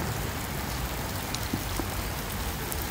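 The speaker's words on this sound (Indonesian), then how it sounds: "di balik hujan yang rintik-rintik ini" Light drizzling rain falls steadily as a dense, even patter of fine drops, close and continuous with no talk.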